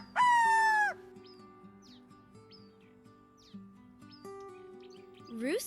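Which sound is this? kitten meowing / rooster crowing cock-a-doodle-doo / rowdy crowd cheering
rooster crowing cock-a-doodle-doo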